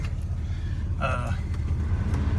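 A 1978 Chevrolet C10 pickup with a big block engine runs steadily nearby, a constant low rumble while someone briefly speaks over it.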